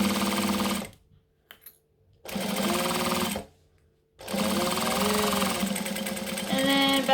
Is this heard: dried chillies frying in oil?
no